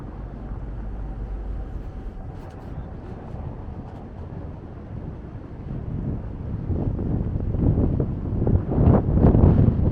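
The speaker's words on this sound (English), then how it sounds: "Starting to get windy." Wind buffets the microphone in a steady low rumble that grows stronger and gustier toward the end, with no talking, on a street in Yorkville outside the Four Seasons Hotel.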